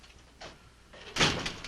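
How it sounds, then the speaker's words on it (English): A door closing indoors in a 1960s TV comedy scene: a soft early knock, a brief shuffle, then a louder clunk and rattle as it shuts, fairly close. "Close the door."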